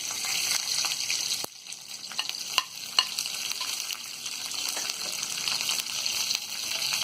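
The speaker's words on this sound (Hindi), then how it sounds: "पनीर तलने के बाद में अब इसी में हम ये शिमला मिर्च को फ्राई कर लेंगे।" Sliced capsicum frying in hot oil in a kadai, left over from frying paneer, gives a steady close hiss and crackle with a brief drop partway through and a few sharper pops.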